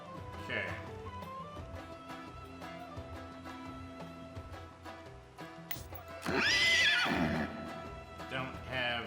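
A horse in the Sultan's Game video game whinnies loudly near the end, with hoofbeat-like clip-clop and game music underneath and a voice talking throughout.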